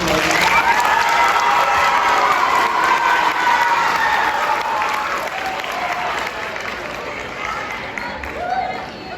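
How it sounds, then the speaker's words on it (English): A crowd at a seventh grade celebration claps steadily and loudly for several seconds, with some cheering mixed in, gradually tapering off toward the end. "let's give one final round of applause"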